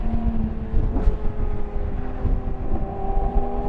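The engine and exhaust of a Ferrari Monza SP1 roar close by in a short, rough burst with a sharp crackle near the one-second mark, under wind buffeting.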